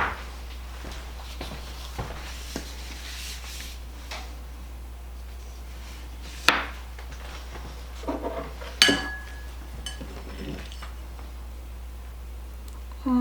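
Homemade copycat Wendy's chili being served into a bowl: faint scrapes and clinks of a utensil against dishes, with a few sharper knocks and rattles standing out, in a quiet kitchen.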